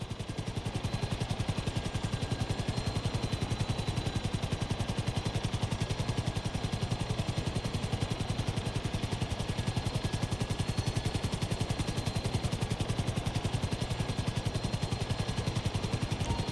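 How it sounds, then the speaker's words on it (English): A helicopter hovering in the video game GTA 5 gives a continuous, steady rotor thrum with rapid rhythmic chopping, moderately loud and unchanging throughout, with no voices. "Just hold the chopper here."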